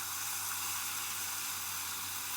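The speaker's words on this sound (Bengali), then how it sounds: "দেখুন জল দিয়ে দিচ্ছি।" Fried cauliflower and potato sizzle in a pan as water is poured in for a thin curry with stinging catfish; a steady, fairly quiet hiss throughout with no distinct pops or voices.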